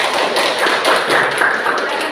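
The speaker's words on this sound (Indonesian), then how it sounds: "Oke, tepuk tangan semuanya." A class of students claps hands together in a classroom lesson, a loud close burst of dense, slightly uneven clapping filling the whole moment without speech.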